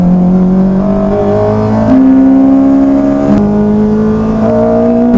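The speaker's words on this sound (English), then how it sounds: "VTEC kicking in the Clio." A Renault Clio 182 with a swapped Honda K20 VTEC engine pulls hard on a track, its tone rising through the revs with sharp gear changes around two and three and a half seconds, loud and close, no talking.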